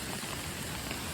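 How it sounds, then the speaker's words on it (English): Rain starting to come down in the woods near waterfalls makes a dense, soft, even patter of drops on leaves and ground, steady and fairly faint, with no voices. "it just started raining"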